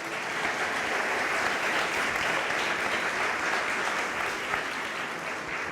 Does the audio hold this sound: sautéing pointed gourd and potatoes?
no